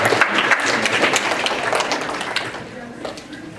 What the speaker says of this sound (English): All right, give yourselves a round of applause.